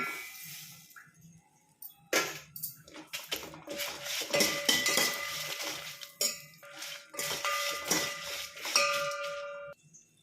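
Metal utensils scrape and clink against a pan in irregular bursts, close up, as coriander seeds, dried red chillies and poppy seeds are stirred and tossed while they roast.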